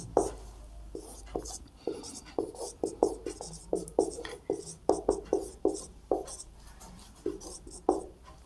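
A pen writes out a maths equation on paper, producing a steady series of short scratchy strokes and taps, close and distinct, with faint speech-like sounds underneath.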